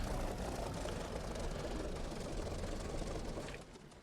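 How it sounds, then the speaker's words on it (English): A Focke-Wulf Fw 190 D-9 piston engine idles after parking in the DCS flight simulator, giving a steady, dense, rumbling drone that holds evenly and eases off slightly at the very end, with no voices over it. "shut off the throttle, the engine and the magnetos. Just bring the engine to a stop"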